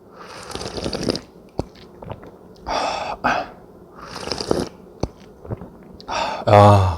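Shin Ramyeon instant noodles being eaten, with loud close slurps of broth, breathy gasps and chewing in bursts, ending in a strong drawn-out sip.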